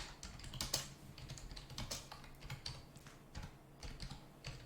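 Steady typing on a computer keyboard while entering a name in AV Linux with the Xfce desktop, a run of close, quick key clicks at an irregular pace, some keystrokes louder than others, with no voices.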